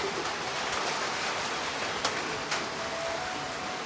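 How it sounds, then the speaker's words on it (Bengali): Steady rain pours down during the monsoon season in Bangladesh, a dense even hiss throughout, with a couple of faint sharp ticks and a soft tonal call in the background. "সব জায়গায় বৃষ্টি হচ্ছে বৃষ্টির সিজন"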